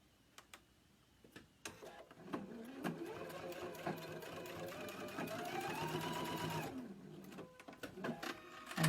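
A sewing machine stitches a folded fabric flower: a few slow ticking stitches build into a steady, close mechanical whir that runs for several seconds, then slows back to isolated clicks.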